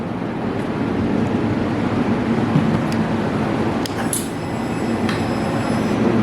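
A 2022 Harley-Davidson Softail Street Bob 114 motorcycle engine runs with a heavy, continuous low rumble at a steady level, close and filling the whole stretch, with a few faint clicks above it.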